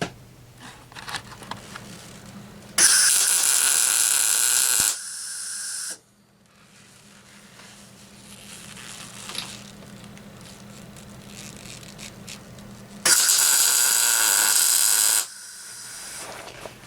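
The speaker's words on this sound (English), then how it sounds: "So I'm going to weld this on and then we'll bring it back and see how it looks." A go-kart chain tensioner bracket being welded, heard as two loud, steady hissing, crackling bursts of a few seconds each, separated by quieter workshop background.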